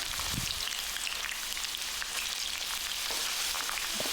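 Cut potatoes fry in hot oil in a pan, giving a soft, steady crackling sizzle like light rain, with a brief clatter near the start and no voices.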